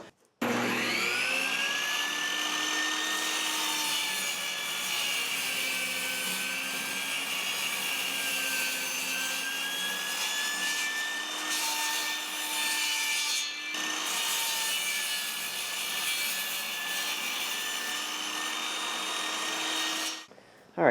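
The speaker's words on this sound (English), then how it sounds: "what we've got to do is take them, chop them down to 14 1/8 of an inch" Length of 2x2 lumber being cut to size with a bevel on a power saw, a continuous whining tonal hum with a brief dip midway, steady and close for about twenty seconds.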